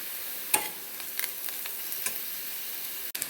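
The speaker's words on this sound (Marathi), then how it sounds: "इथे लाल मिरची पावडर हळद मिक्स करून झालं आहे" Red chili powder and turmeric being stirred into fried onion in a pan, a low even sizzle broken by occasional scraping strokes and a sharp knock near the end, close and quiet, no voices.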